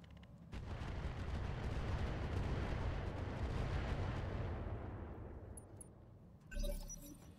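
Artillery fire in RogueTech, a BattleTech video game, builds into a sustained rumbling barrage that fades away, followed by a short sharp impact and clattering debris.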